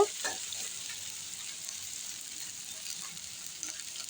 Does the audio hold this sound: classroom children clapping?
no